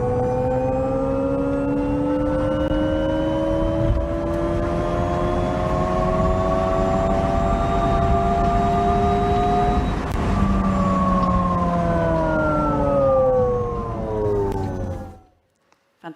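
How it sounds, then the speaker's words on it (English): An Alpine A290 electric car plays its synthetic Alpine Drive Sound, built from the e-motor's real harmonics: a steady, layered tonal hum that swells gradually in pitch over many seconds, then falls away to silence. "So we brought it to life thanks to our system, Alpine Drive Sound."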